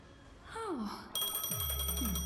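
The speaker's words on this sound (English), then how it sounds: "A phone." A phone rings in Honkai: Star Rail, with steady tonal ringing and a low buzzing hum that starts partway through and runs to the end. Brief whooshing game sounds come before it.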